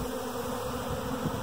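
Honey bees hanging around a swarm box, a dense continuous buzzing hum held steady and close throughout, with no voices.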